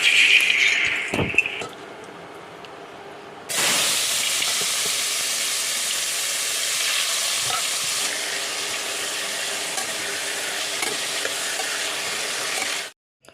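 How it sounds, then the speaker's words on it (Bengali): Bitter gourd and potato slices frying in a pan, a steady loud sizzle that bursts in after a quieter start and holds evenly until it cuts off abruptly near the end. "উচ্ছে আলু ভাজা বসিয়ে দেবো"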